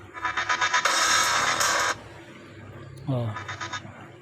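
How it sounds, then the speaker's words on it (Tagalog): A Tecno Spark 30 phone plays its Transformer ringtone loudly from its speaker, a bright buzzing chime burst followed by a shorter repeat after a pause. "ringtone, no? Transformer, para marinig natin."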